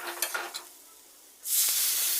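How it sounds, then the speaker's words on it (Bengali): A curry mixture for hilsa fish with elephant foot yam is stirred and fried in a pan. Soft scraping stirs come first, then a loud, sustained hissing sizzle close by. "এবার এটা ভালো করে মিশিয়ে নেব আমি, যাতে এটা একটু ভাজা ভাজা হয়"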